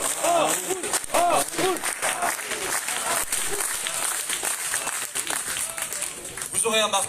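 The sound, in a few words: audience applauding at a political congress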